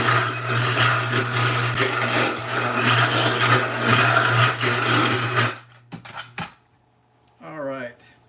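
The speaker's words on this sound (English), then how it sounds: "So we're going to demagnetize them now" An electric demagnetizer treating clipper blades gives a loud, steady mains hum with rattling metal buzz for about five seconds. Clicks and clatter follow as it shuts off, then a person speaks briefly.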